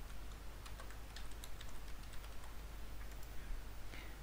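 Rapid clicking keystrokes on a computer keyboard as a password is typed, an irregular run of light taps close by over a steady low hum, with no talking.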